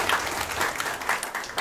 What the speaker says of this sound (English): Can we have a round of applause for our amazing performers?